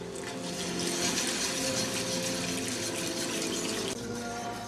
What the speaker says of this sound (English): Now we're going to add our 1 quart of milk.